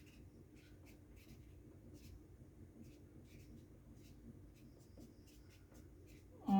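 A pen writing on paper, with a steady run of faint, quick scratching strokes close by and a brief louder knock right at the end.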